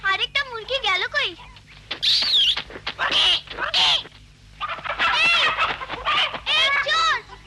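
Cartoon chickens cluck and squawk in loud, close bursts that come and go between pauses, mixed with voices.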